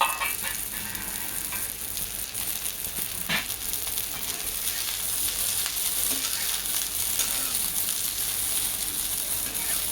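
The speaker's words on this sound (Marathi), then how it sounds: "मी भेंडी पहिला भाजून घेणार आहे." Okra (lady's finger) fries in a little oil in a kadai over medium heat, giving a steady, fairly close sizzle that holds throughout with faint scraping from stirring and no talking.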